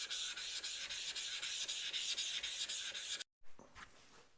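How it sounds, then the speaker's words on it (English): Steel kanna chip breaker from a Japanese plane rubbed back and forth on a lapping plate, giving about a dozen steady, close, loud rasping strokes that stop suddenly near the end, followed by a brief fainter scrape. "Just a few strokes on the lapping plate there, and I've got a fairly consistent scratch pattern across most of the blade."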